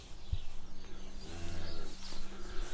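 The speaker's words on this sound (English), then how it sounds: "Actually, that's a cow." A cow moos on a farm beside a livestock shed, a low drawn-out call from nearby set against steady outdoor background noise.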